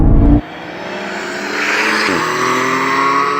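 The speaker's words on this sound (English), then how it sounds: "Nice pickup for this naturally aspirated engine, but the two turbocharged cars just shot off with that added torque" A GR Supra, Porsche Cayman GTS and Alpine A110 S launch together in a rolling drag race, a sharp engine burst dropping into a rising, strained drone with a shift-like dip midway, loud and close.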